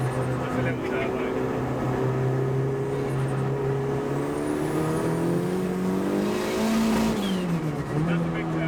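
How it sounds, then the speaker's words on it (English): A big turbo on a space-framed, rear-wheel-drive Mk2 Golf spools under loud, steady engine drone, with rising and falling whine over continuous in-car noise. "That's the big turbo."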